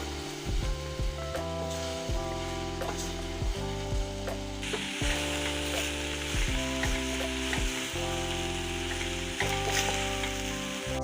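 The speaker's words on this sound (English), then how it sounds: "The tomatoes in, the veg are in, so I'm just going to give it a really good stir now." Vegetable masala with tomatoes stirred in a hot pan, a steady close sizzle and frying hiss under repeated scraping and knocking of the spoon against the pan, with no talk.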